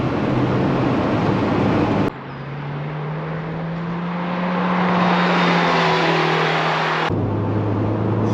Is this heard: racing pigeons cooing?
no